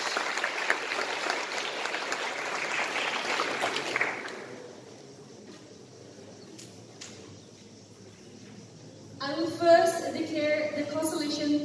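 A debate competition audience at an inter-college event applauds both the treasury and opposition teams, with a dense burst of clapping that fades out after about four seconds, a quiet gap, then a voice starting to speak.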